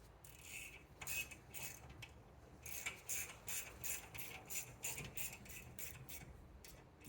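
Ratcheting clicks from a lug nut being tightened onto the wheel hub of a 2013-2021 BMW i3 during a brake job, a run of quick, close mechanical ticks in uneven bursts without talk.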